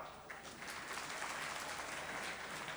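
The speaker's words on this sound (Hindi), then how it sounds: "भरपूर तालियां।" A steady wash of applause from the audience at a cotton convention in Bahawalpur, dense and even for a few seconds, heard at moderate distance without speech over it.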